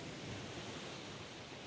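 Sea surf breaking on the shore at Soli, Mersin, a steady broadband wash of waves with wind noise over the microphone, continuous and fairly even with no voices.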